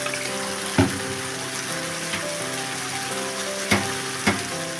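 Okra with poppy seed paste sizzling in the pan after raw mustard oil is drizzled on top and the gas turned off: a steady close hiss broken by a few soft knocks.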